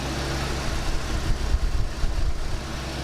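The engine of a 1974 AMC Javelin, which has fuel pump trouble, idles with a steady low rumble, heard up close and alone with no talk over it.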